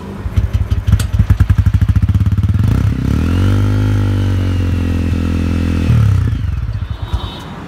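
A TVS Ronin 225 cc cruiser motorcycle starts up close by, with a rapid clattering crank, then a loud steady heavy exhaust idle that settles and fades into uneven putters.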